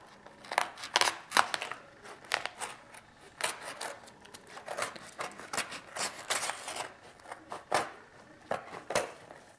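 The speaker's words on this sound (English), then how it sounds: "And then just take your scissors." Scissors snip close by through candy wrappers for decorating a notebook, giving a steady series of crisp cuts and crinkly rustles with short pauses between them and no talking.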